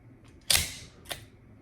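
A firearm dry-fires on an empty chamber with an empty magazine, giving a sharp metallic snap, and about half a second later the action unlocks with a second, quieter mechanical click.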